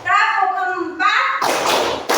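Children in a classroom clap along in a counting clap game; a voice is heard first, then a dense burst of many hands clapping together near the end.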